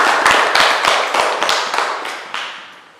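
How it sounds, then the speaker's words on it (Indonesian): Several clustered hand claps ring out in a classroom group guidance session, a small group clapping in loose bursts that gradually thin and fade, close and fairly loud. "Iya, tepuk tangan buat Bima."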